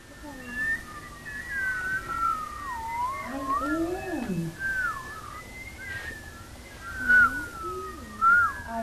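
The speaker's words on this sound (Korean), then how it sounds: "아이들은 휘파람을 불어봅니다." Several wavering whistles rise and fall in pitch, some overlapping, with a few higher squeaky notes, fairly quiet and close.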